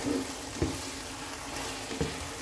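Soy-glazed chicken cooking in a pan as the glaze thickens and sticks, a steady close sizzle with a few soft knocks from stirring.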